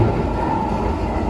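A Keihan 13000 series electric train rumbles past near Neyagawa-shi Station with a steady, loud low roar and rushing noise, heard from inside or close by.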